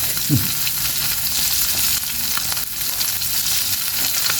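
Steady, loud crackling sizzle of amali fish frying in hot oil, continuous throughout with occasional pops and a brief stir, no talking.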